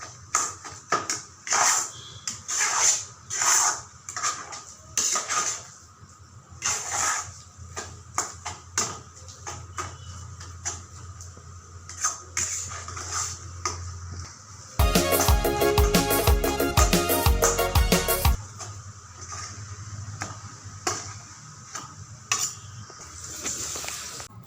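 Potatoes are stirred in a cooking pot, with repeated clattering scrapes and knocks of a spoon against the metal over a faint sizzle, interrupted midway by a loud burst of harsh buzzing noise.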